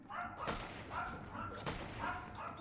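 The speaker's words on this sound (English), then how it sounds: "The hell my dog barking for?" A pet dog barks in short repeated bursts, roughly every half second, somewhere in a room, moderately loud and slightly distant, over steady background noise from a home gaming setup.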